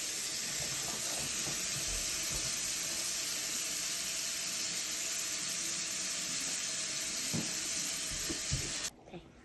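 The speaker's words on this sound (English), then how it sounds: "First, you wash your hands like this." Running tap water pours in a steady, close broadband rush while hands are washed under it, with small splashes and knocks, then the flow cuts off abruptly near the end.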